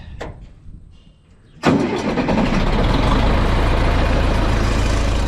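A John Deere 3010 tractor on a farm fires up with a sharp crank and catch, then settles into a loud, steady diesel rumble close by, with no one speaking.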